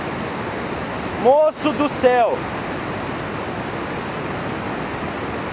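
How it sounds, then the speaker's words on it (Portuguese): Floodwater from a sudden flash flood roars down a waterfall in Araguari, a loud, steady, close rushing wash filling the whole clip, with a man briefly exclaiming partway through. "Olha essa cachoeira, velho. Cara, 30 segundos e isso virou esse inferno."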